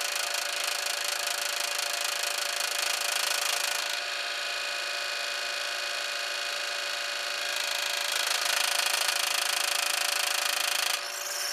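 A Rodin Coil Baby Bear motor, 12-inch, spinning with a steady, dense high-pitched whir and buzz that shifts in intensity as the speed is turned up, close and continuous with no talking.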